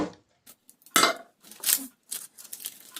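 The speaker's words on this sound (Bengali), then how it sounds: "একটা থালা এরকম চাপা দিয়ে আমি একে উল্টে নেব।" Plates and a pan knock and clink in a few sharp, separate bursts as a fried egg patty on a leaf is flipped over using a plate, close up in a quiet kitchen.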